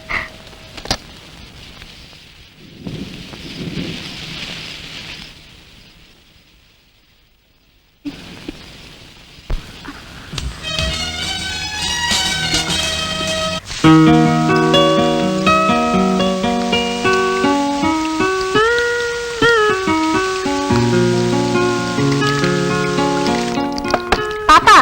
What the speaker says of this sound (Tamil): பிக்னிக் வந்த இடத்துல ஒரே மழை ஆண்டி